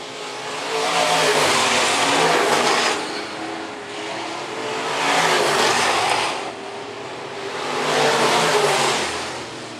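Modified race cars roar around the Phillips County Raceway dirt track, loud engine noise swelling and fading in three broad passes as the pack sweeps by, with no talk over it.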